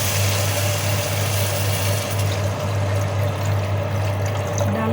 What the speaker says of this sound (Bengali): ডাল সিদ্ধ হওয়ার জন্য পানি দিয়ে দিলাম।